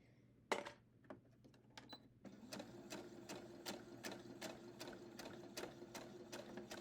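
A sewing machine stitches fabric for a fabric box, starting with a few single stitches, then settling into a fast, even mechanical clatter, close and fairly quiet, with no talking.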